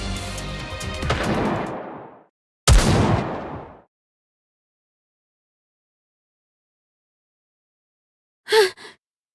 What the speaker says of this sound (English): Those gunshots. I've heard them somewhere before.